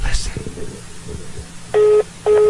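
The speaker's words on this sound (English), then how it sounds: "Can you hear it beeping?" Low talk and faint rustling, then two loud, sustained electronic beeps a moment apart from a telephone on hold.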